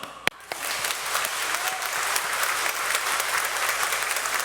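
Congregation clapping during a church service, a dense, steady burst of many hands applauding together that starts abruptly after a sharp knock and continues evenly to the end, with no talking over it.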